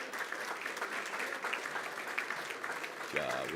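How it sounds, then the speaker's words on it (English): Applause from a crowd at a school board meeting welcoming high school athletes, a steady wash of clapping that holds throughout, with a brief voice rising near the end. "how about a round of applause for our next group of athletes coming in?"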